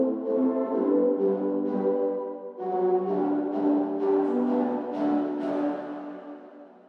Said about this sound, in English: the main lead, which comes in very filtered, reverbed out